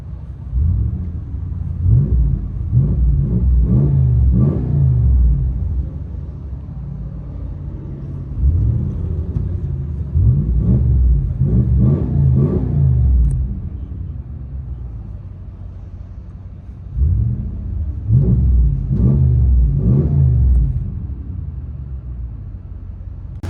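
From inside the cab of a 2024 Ram 2500 with 6.4L Hemi V8 and Borla ATAK exhaust, three deep rev swells rise and fall between stretches of muffled, droning idle rumble.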